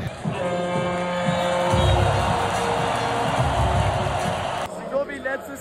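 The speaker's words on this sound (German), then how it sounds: "Und die jubeln." A packed football stadium crowd of Fenerbahçe fans cheers at an FC Bayern vs Fenerbahçe match in Munich, a dense, steady roar that swells midway, with someone talking close over it throughout.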